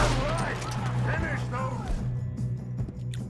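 Rapid gunshots from a Red Dead Redemption 2 train robbery shootout crack sharply and intermittently beneath voices talking throughout.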